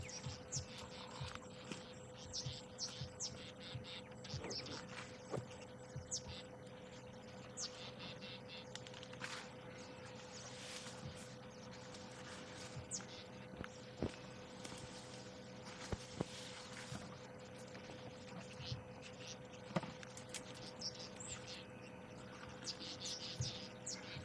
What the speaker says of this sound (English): the southern black tit